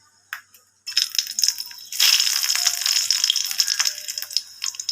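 Dried red chilies dropped into hot oil for tempering a spinach dal, giving a sudden loud crackling sizzle that stays bright and steady after a quieter start, with no voices.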